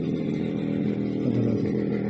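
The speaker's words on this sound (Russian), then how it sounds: "Тут шумно сейчас, мотоцикл едет." Motorcycle engine droning loudly and steadily as it passes near a village house, a continuous rough mid-pitched buzz with no speech over it.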